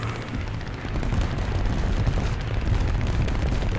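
Gunfire in the sky during an air battle in War Thunder, heard as a dense rumbling patter of distant shots and bursts over a steady engine drone, continuous and moderately loud.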